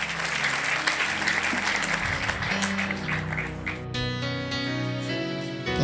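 Applause from a church congregation, a broad wash of clapping that shifts into sustained music-like tones partway through, moderately loud throughout.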